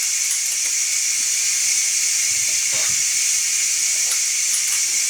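Food placed on a hot pan sizzles steadily, a loud, continuous hiss up close with no talk over it.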